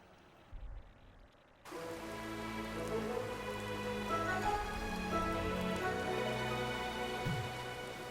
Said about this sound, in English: As you can see, the weather is different. Right now, it is raining.